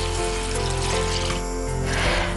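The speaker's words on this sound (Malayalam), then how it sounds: "ആദ്യം നമ്മളൊരു 3 കപ്പ് വെള്ളം ഒഴിക്കാം" Three cups of water pour steadily into a cooking pot of fried masala for a Kerala fish curry, a continuous splashing rush that stays fairly loud and close throughout with no voices.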